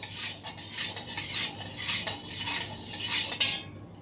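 Salt being stirred into a fabric dye bath: a close, rhythmic scraping and clinking of a metal utensil against a pot, steady for several seconds before stopping suddenly.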